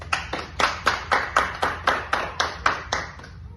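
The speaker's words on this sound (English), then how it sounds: "Can we please give them a round of applause?" Wedding guests clapping in a rhythmic, evenly spaced series of about a dozen sharp claps, moderately close and without voices.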